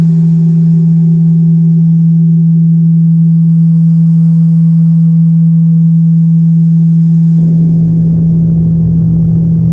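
Compressed radio signal received from the star TYC 1229 11, rendered as a loud steady low electronic hum with a constant tone that shifts into a rougher buzzing texture near the end, alone.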